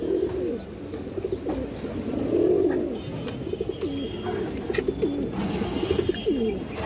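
Male red Barola pigeon cooing in repeated rolling calls, fairly close and steady across several seconds, with faint background noise and no talking.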